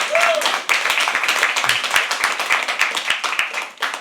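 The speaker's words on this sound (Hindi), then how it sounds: "Start clapping guys, start clapping." An audience at a live poetry open mic at The Habitat claps steadily and close, with dense overlapping hand claps and a voice speaking over them.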